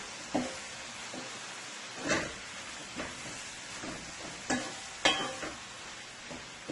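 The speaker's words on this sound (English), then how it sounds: "You want to cook your bacon and your sausage on nice high heat." Bacon and sausage frying over high heat in a pan with a little garlic, a steady close sizzle broken by a few sharp scraping stirs and tosses, no voices.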